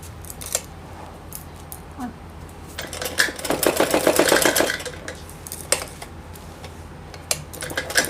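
A sewing machine stitches the hem of a four-panel salwar cuff in one short burst of rapid, even needle clatter midway through. Scattered clicks and fabric handling come before and after the burst.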